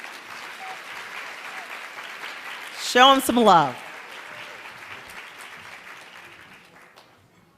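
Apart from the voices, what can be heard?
audience applause as guests walk to the stage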